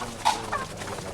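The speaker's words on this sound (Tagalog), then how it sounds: "Yung mga manok namin oh." Farm chickens clucking at morning feeding, a couple of short, close clucks over a faint background, no voices.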